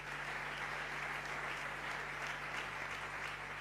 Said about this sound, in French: On peut acclamer notre presse.